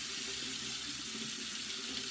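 A bathroom sink tap runs steadily while the water warms, a constant soft hiss and splash of flowing water with no voices.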